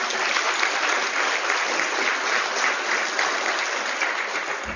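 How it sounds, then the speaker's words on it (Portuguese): An audience at an engineering award ceremony applauds, a dense, steady wash of clapping that continues evenly throughout without pause. "Podemos aplaudi-los, por favor."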